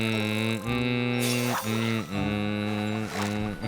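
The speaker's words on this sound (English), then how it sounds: "Why is there a car sound in the woods?" A tank mount in Final Fantasy XIV drones with a steady harmonic engine hum, rising and falling in pitch with several dips and swells, close and continuous with no talk over it.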